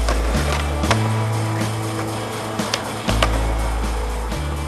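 A skateboard rolls steadily on pavement with sharp pops and clacks as the board is snapped and lands during a trick, the rolling rumble continuing underneath.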